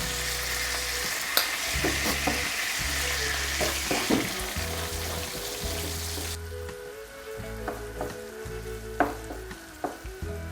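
Ground meat sizzles and crackles steadily in a hot pan, with occasional scraping clicks of a utensil stirring it.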